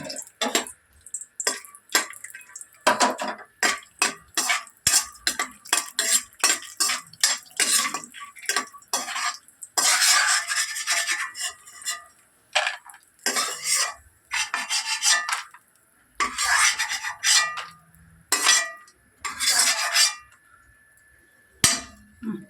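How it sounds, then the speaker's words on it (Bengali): Already roasted peanuts being stirred in a wok before making vegetable chops, giving repeated close scraping and rattling strokes in an uneven rhythm with short pauses between them. "আমার তো এই বাদামটা অলরেডি ভাজা, তাই আমি আর বেশি ভাজবো না।"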